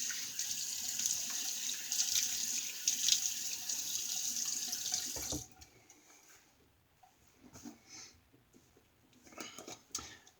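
Tap water runs steadily into a sink for about five seconds to wet a face before shaving, then cuts off, leaving quieter splashes and light handling sounds.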